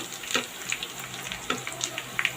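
Cinnamon sticks fry in hot oil for a beef tongue and brain curry, giving a steady soft sizzle with a few sharp crackles and pops, close and fairly quiet, with no voices.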